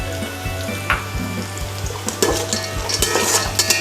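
Cashews fry in a pan for a vegetable biryani, a steady crackling sizzle with regular spatula scrapes and taps against the pan, close and fairly loud, with a few sharper clinks near the end.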